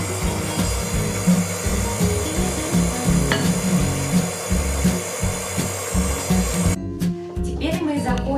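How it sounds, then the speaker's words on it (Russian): Flour mixed into white cake batter: a steady whirring churn with rhythmic scraping pulses that runs continuously, then cuts off abruptly near the end, leaving quieter clinks. "Закончили смешивать все ингредиенты."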